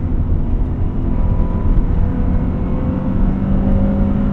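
A 1998 Honda Prelude Type SH engine heard from inside the car, a loud, steady low drone with a slowly rising pitch as it revs toward VTEC, with no voices.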